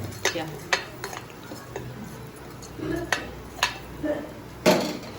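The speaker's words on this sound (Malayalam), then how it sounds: "നല്ലോണം ഇളക്കി കൊടുക്കാം" A spoon scrapes and clinks against a pan as beef is stirred for palkappa, with scattered sharp metallic knocks, a faint sizzle underneath, and a voice murmuring in the background.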